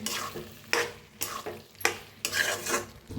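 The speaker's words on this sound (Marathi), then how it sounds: "शेंगदाण्याचा कूट वापरला. भाजीला मिक्स करून घेऊया" A spatula scrapes and turns vegetables mixed with crushed peanut powder in a pan, giving several distinct stirring strokes in bursts over a faint sizzle, close and fairly quiet, with no talking.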